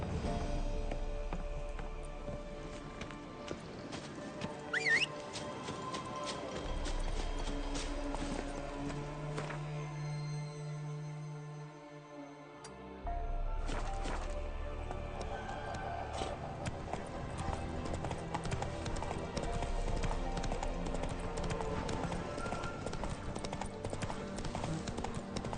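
Horse hooves clip-clop in a steady galloping rhythm in The Witcher 3, with occasional whinnies and a brief slowdown partway through, set against ambient game sound and music.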